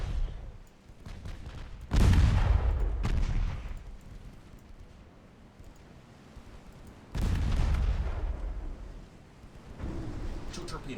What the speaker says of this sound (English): Two torpedo hits.